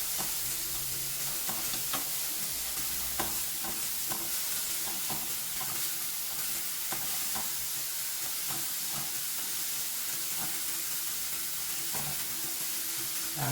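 Onion and wood ear mushroom stir-frying for yangjangpi japchae, a steady wash of sizzle and hiss with frequent scraping stir strokes and clacks of the utensil against the pan throughout.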